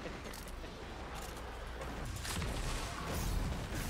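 Video game gunfire crackles through a dungeon fight, a continuous stream of sharp shots and impacts that grows louder and denser toward the end.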